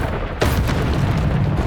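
A single loud booming blast from the Bombarda spell in Hogwarts Legacy, hitting abruptly over steady combat noise and leaving a dense rumbling tail.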